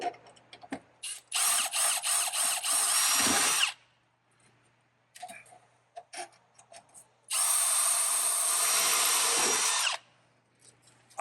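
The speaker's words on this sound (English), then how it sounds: "Kind of hold it with your hand, snug it up, and start drilling your holes." A power drill with a Montana bit bores holes through a Ford truck door, two loud sustained whining bursts of a few seconds each, separated by clicks, handling and short trigger pulses.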